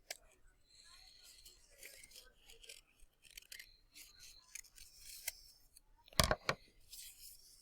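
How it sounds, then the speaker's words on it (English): Scissors snip slowly through a sheet of folded paper, a run of soft, close cutting sounds with a sharper burst of snips near the end, over faint background rustling. "I just keep my paper folded and slowly cut around."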